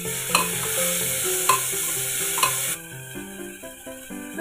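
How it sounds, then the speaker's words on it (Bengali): Winter vegetables for pav bhaji being stirred in a frying pan, a steady close sizzle with a few sharp scraping strokes of the spatula against the pan, with no voices. "এবারে সবজিগুলো একটু নেড়ে নিতে হবে।"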